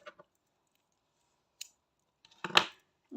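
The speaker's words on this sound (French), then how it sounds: "coupe le fil et on tire" Scissors snip crochet yarn: a couple of faint clicks, then a crisp cutting snap near the end, close and quiet against near silence.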